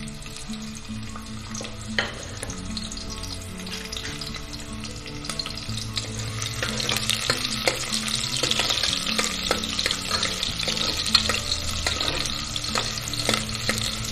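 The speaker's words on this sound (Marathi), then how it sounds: "तेल चांगलं गरम होऊ द्यायचं आणि त्याच्यानंतर आपल्याला फक्त कांद्याची फोडणी घालायची आहे" Sliced onion for a Marathi fodani tempering sizzles and crackles steadily in hot oil, the frying growing louder and denser partway through, with occasional stirring scrapes and clinks close by.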